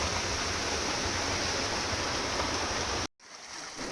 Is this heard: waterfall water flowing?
yes